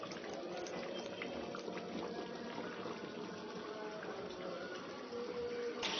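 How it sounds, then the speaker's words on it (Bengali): A pot of meat simmering and bubbling for biryani gives a steady, moderately close wash of boiling liquid with no one speaking. "তো এটা আমরা রেখে দিই সিদ্ধ হওয়া অবধি।"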